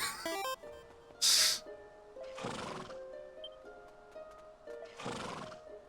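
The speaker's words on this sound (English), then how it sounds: "I like the horses in this game." Horses in the video game Dragon Quest 7 Reimagined: several neighs and whinnies spaced a few seconds apart over quiet background music, with a brief bright chime and faint clip-clop in between.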